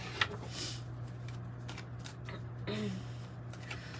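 Tarot cards are shuffled softly at close range, a steady brushing and riffling of cardstock that carries on for a few seconds with small soft taps, over a low constant background hum.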